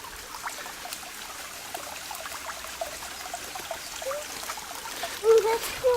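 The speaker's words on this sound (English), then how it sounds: "It's like a little mini waterfall." A small waterfall stream on a hiking trail splashes and trickles in a continuous, fairly faint wash, with people talking over it and an excited voice near the end.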